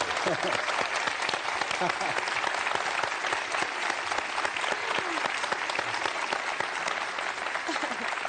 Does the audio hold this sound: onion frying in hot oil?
no